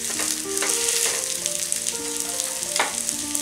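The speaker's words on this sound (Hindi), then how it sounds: "रोटी को तवे पे डालेंगे" A chapati sizzles in ghee on a hot tawa, giving a loud, continuous hiss and crackle with a few soft scrapes and taps from handling.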